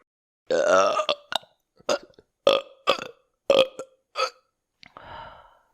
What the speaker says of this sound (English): I am burping.